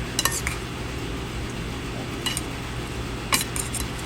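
Chopsuey is stirred in a pan, giving a few faint, sparse metallic clinks and scrapes of a utensil against the pan over a low steady hum.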